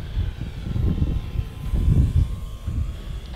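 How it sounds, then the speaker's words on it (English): An FMS Zero 1100mm RC warbird model airplane flies overhead, its electric motor giving a low, wavering drone that swells and fades as it passes, with wind rumble and no talk. "Sounds good, and well, it's really just a quiet little airplane"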